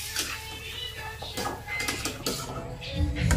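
Chicken soup being stirred in a pot during home cooking, with scattered metallic scrapes and clinks of utensil against cookware and a low background hum.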